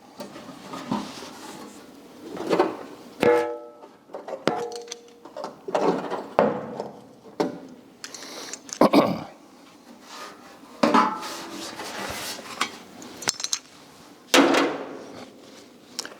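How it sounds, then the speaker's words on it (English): Metal clamps are fitted onto a patch panel on a Dodge Challenger quarter panel, giving scattered clinks, ratchety clicks and metallic taps with quiet pauses between bursts. "Try a few clamps here quick."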